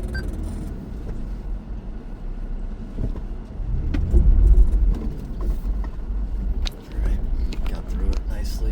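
A car drives over a hole on a rough mountain road, its engine and road rumble steady and close with a heavier low thump near the middle; a person talks over it.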